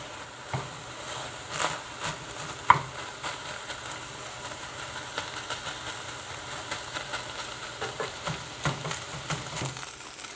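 Hamburger meat browning in a pan: quiet, continuous sizzle with scattered pops and occasional scraping stirs, faint and close, no speech.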